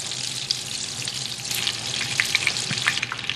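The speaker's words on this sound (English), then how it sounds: "Get that butter melted down into the oil." Butter melting into hot oil in a pan for linguine with clams, giving a steady, close sizzle and frying crackle with a few small pops, with no talk over it.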